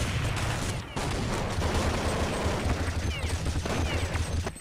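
Dense, rapid gunfire from the Counter-Strike 1.6 video game crackles almost without pause. Overlapping automatic bursts and single shots fill the clip with no voices.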